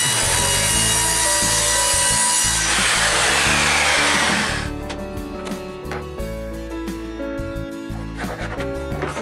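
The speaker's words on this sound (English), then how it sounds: "I then rough cut it with my circular saw, since the piece of plywood is too big to go through the table saw." Circular saw rough cutting a large sheet of plywood, a loud close whining cut for several seconds, then the blade spins down and winds off with scattered knocks and rattles.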